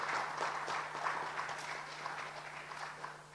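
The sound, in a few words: round of applause welcoming a speaker on stage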